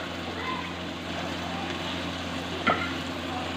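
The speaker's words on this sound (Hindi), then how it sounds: "इसको कम से कम 20 से 25 मिनट तक आप इसकी भुनाई करते रहें लगातार" Mutton karahi sizzles in a pan while being stir-fried, a steady close frying hiss with a brief scrape of the utensil near the end.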